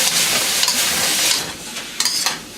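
Chicken and chayote squash stir-fry in a hot wok with a loud, continuous sizzle, broken by sharp stirring scrapes and tosses near the end.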